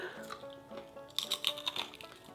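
Cooked turkey bacon gets bitten and chewed close up, a few crisp crunches clustered in the middle of a quiet stretch, faint overall.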